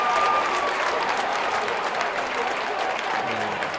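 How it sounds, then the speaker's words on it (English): Fans at a close boys high school basketball semifinal, Pinkerton against Portsmouth, cheer and applaud in a steady, loud roar that fills the whole gym, with a few voices shouting inside the noise. "Crowd getting fired up"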